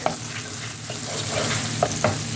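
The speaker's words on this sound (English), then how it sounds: "Turn the heat down because I don't want to burn the garlic." Garlic frying in a pan on turned-down heat, a steady soft sizzle with occasional utensil clinks and stirring scrapes, close and continuous with no talk.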